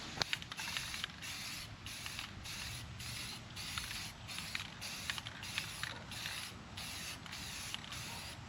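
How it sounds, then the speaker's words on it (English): Light coats of spray paint going onto a barrel sauna, a steady airy hiss broken into rhythmic bursts as the nozzle is pressed and released, close by and with no talking. "I tried to make those coats as light as possible, as per spray painting protocol"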